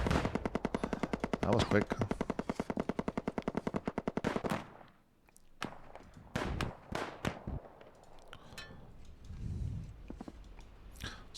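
Rapid sustained machine gun fire rattles in a fast, even stream in the WW1 trench warfare strategy game Dig In, then gives way to scattered heavy artillery and gun blasts, with a brief spoken remark near the end.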